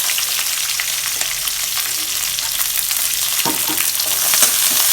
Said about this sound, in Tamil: நல்லா வதக்கிக்கலாம் வெங்காயத்தை நல்லா வதக்கணும்